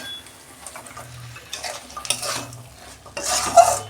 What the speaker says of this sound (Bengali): মাছগুলো দিয়ে আর 2 মিনিট আমি কষাবো